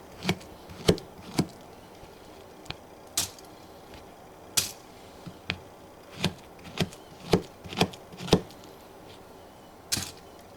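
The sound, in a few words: slicing a banana into cereal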